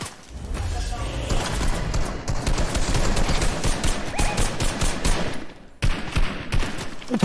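Gunfire in the Fortnite video game, dense sustained rapid shooting mixed with blasts, loud and continuous for several seconds, with a brief gap near the end before the shooting resumes.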